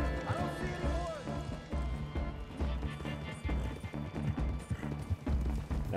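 Horse hooves clip-clopping at a gallop in the video game Red Dead Redemption 2, a steady rhythmic pounding under dense game music and crashing effects, with someone talking over it.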